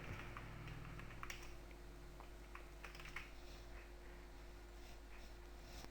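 Typing on a computer keyboard while filling in an online exam application, a run of quick, light key clicks in irregular bursts over a steady electrical hum, close and quiet, with no talk.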